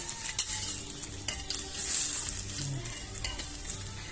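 Tupig rice cake mixture cooking in a pan, a steady close sizzle and frying crackle with occasional stirring and scraping, continuous throughout with no voices.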